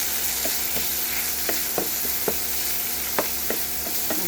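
Tomato, onion and dried red chilli sauté in a pan, a steady close sizzle broken by a series of sharp spatula scrapes and stirs at irregular intervals, with no voices.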